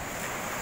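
Ocean waves at Aulia beach wash in a steady, broad roar mixed with wind buffeting the microphone, loud and continuous with no distinct breaks.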